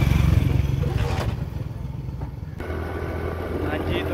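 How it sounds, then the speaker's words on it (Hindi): A motorcycle on a village road in Pakistan, its engine rumbling low and close as it pulls away and carries on moving, with the engine note running steadily through the whole stretch and a voice talking over it. "मोटरसाइकिल हमने स्टार्ट कर लिया और मोटरसाइकिल जा रहा है"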